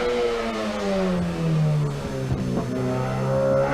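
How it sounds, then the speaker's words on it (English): A racing car at a hill sprint event, its engine loud and droning as it accelerates past, the pitch sliding down and then climbing again through the gears with a steady, rough roar. "Bethan Mazondi, you can hear the engine noise."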